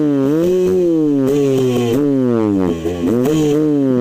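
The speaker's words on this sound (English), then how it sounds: "that is the sound of a bike that's not getting any fuel." A dirt bike engine at a hare scrambles race sputters and surges while starved of fuel, its note wavering up and down in uneven pulses, loud and close with no talking.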